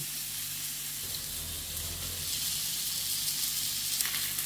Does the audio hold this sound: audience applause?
no